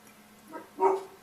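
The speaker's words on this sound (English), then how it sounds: "you hear a very large dog barking" A very large dog barks twice from a distance, a short muffled woof followed by a louder one, faint against a quiet indoor room.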